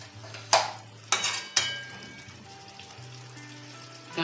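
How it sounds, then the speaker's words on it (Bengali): A utensil stirs crab curry spice paste in a pan after water is added, with three sharp metallic knocks against the pan over a low, steady sizzle and scraping. "একটু জল দিচ্ছি মশলাটা যাতে ভালোভাবে কষানো যায়"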